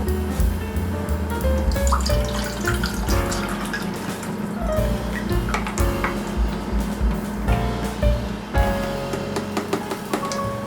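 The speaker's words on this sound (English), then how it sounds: "we're going to add our chicken broth" Chicken broth pours steadily into a pot with a continuous splashing, gurgling sound, fairly close and loud, without talking.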